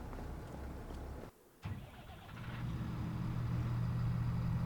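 Tractor engine in the Farming Simulator 25 video game starts up after a brief silent gap, then settles into a steady, loud low idle drone that holds to the end, with no talking.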